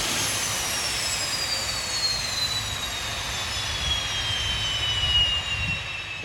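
A Rolls-Royce Spey 205 jet engine on a test run with its afterburner lit gives a loud, steady, continuous roar with a high whining tone that slowly falls in pitch. It sounds close, constant and powerful, and nothing else is heard over it.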